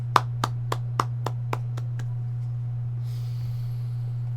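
Eight sharp hand claps ring out in a slowing rhythm, fading toward the end, over a steady low electrical hum, followed by a faint rustle.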